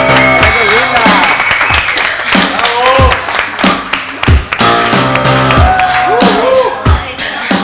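A studio audience applauds to welcome a female guest on a television show, loud bursts of clapping mixed with music and lively voices throughout.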